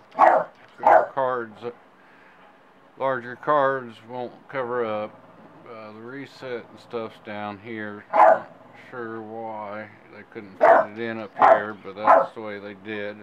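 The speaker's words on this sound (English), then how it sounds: "I apologize for the dog." A dog barks and yips in sharp repeated bursts indoors, close and loud, over steady talk by a man unboxing an ASRock Formula OC motherboard.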